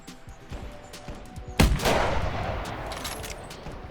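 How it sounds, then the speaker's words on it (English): A single sharp rifle shot at a whitetail buck in theHunter rings out loud and close, with a long rolling echo across open ground and a quiet outdoor ambience. "So after about 15 different shots, the buck finally went down."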